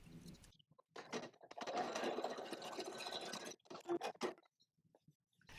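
An embroidery machine stitching fabric down in the hoop over placement lines for a small scissors case, a quiet mechanical whir running in a few bursts separated by short pauses.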